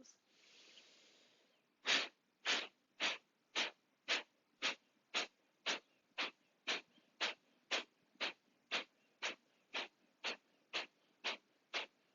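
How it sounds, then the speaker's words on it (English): Twenty-some sharp, forceful nasal exhales fire off in a steady rapid rhythm during a breath-of-fire yoga round, each puff distinct and close, following a brief softer breath at the start. "We'll do 27 sharp exhales."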